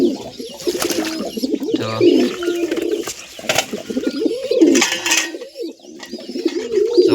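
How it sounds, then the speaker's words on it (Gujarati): Pigeons being given a bath coo in repeated throaty, rolling calls close by, with splashing bursts and a brief spoken word mixed in. "જો આપણા કબૂતરને નાવાનું આપ્યું"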